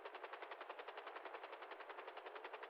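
Distant gunfire in a GTA V roleplay city rattles as one steady, rapid burst of evenly spaced shots that lasts a few seconds. It is faint, with no voices over it.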